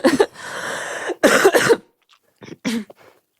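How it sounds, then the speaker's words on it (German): A woman coughs in harsh, close bursts: a long raspy fit followed by a couple of sharp coughs, then softer throat clearing with quiet gaps between. "Hast du nur Husten?"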